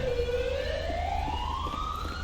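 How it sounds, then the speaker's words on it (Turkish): Ambulance siren arriving in the GTA 5 video game, a loud continuous wail sweeping steadily upward in pitch over a low rumbling game background, with no talking. "Geldi ambulans geldi."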